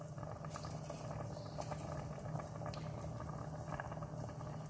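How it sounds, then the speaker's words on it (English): Rice bubbling at a boil in a pot of water, a steady close simmering patter with a faint low hum underneath, continuous and alone without voices. "Once the rice has started boiling"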